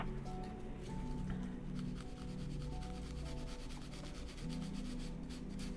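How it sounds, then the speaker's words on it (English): A sanding sponge scrubs back and forth over model railroad track in a steady rhythmic rubbing, close and fairly quiet, with no talk. "But what you can do is just take your little sanding sponge here,"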